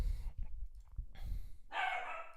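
A pet dog barks indoors, a few short muffled barks off to the side of a home desk setup, fairly faint and close together.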